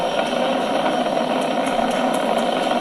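A SpaceX Falcon 9 rocket climbs through maximum dynamic pressure with its engines throttled down, giving a steady, continuous broadband roar that stays even in level and distant, with no voices.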